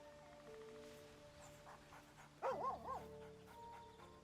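Dog in the video game Baldur's Gate 3 gives a short run of two or three yelping barks, loud and close, against quiet game background music.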